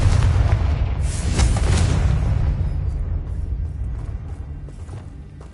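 A Confringo fire spell explodes in the Hogwarts Legacy video game, a loud booming blast with a crackling burst that rumbles and slowly fades over several seconds.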